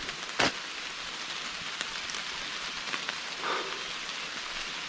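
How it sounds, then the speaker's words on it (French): Rain pattering steadily on forest trees as a soft, continuous broadband hiss, with a few brief louder drop impacts scattered through it and no voices. "Ce petit bruit de pluie là,"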